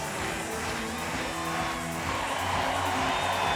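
Stadium crowd of around 30,000 cheering at the beach volleyball world championships after a Germany versus USA match, a steady, broad roar of cheers and whoops that swells slightly toward the end.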